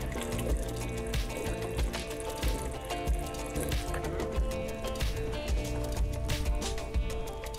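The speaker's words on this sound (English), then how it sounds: "So first I'm going to add our chole, which are already cooked in the pressure cooker." Pressure-cooked chickpeas for chole tumble and slosh into a pan along with their cooking liquid, giving a busy, continuous wet rattle with repeated soft thuds that last the whole stretch.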